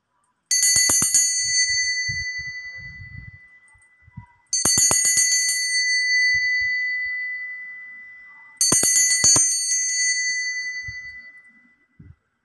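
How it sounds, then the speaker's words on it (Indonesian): A bright ringing bell sounds three times at even intervals of about four seconds, each strike loud and clear then slowly fading, alone in otherwise quiet surroundings with a few faint knocks between strikes. "kita akan melanjutkan dengan ditandai lonceng berbunyi"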